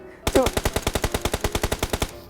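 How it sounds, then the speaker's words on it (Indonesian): Rapid burst of about sixteen evenly spaced AWM gunshots in PUBG Mobile, loud and close, ringing steadily for nearly two seconds. "Masa suara AWM lo suaranya bot kata Pak Oyu Bang."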